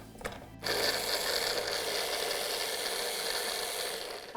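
A food processor whirs steadily as it blends homemade Greek and Tex-Mex style meatball mixture, starting after a brief clatter and running loud and continuous to the end.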